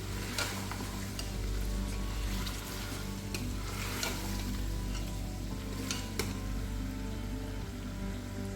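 Garlic and ginger frying for a mutton dish, a steady close sizzle in a hot pan broken by occasional stirring scrapes, continuous with no talking.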